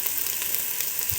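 Dried red chillies frying in a pan for Bengali khichuri: a steady, moderately loud broadband sizzle with faint crackles, with no voices over it.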